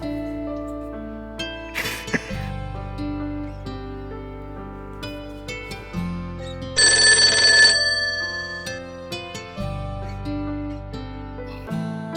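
A telephone rings with a melodic electronic tone, repeating phrases over about twelve seconds, loud and close with no talk over it.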